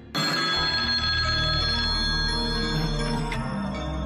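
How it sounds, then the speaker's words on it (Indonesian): An old-style telephone bell rings loud and close, a continuous metallic trill lasting several seconds with no talk over it. "kalau telepon bunyi harus diangkat"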